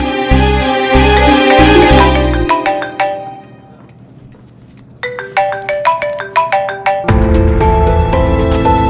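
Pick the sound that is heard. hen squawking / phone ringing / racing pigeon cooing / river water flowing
phone ringing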